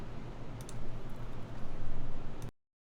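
Typing on a Tohsi Han's Keyboard NEO802 mechanical keyboard: a quick, steady run of close, crisp key clicks for about two and a half seconds, then sudden silence.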